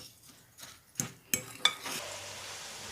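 A fork fluffs cooked semolina for a vegetarian couscous, giving a few light, separate scrapes and taps, then a steady soft hiss.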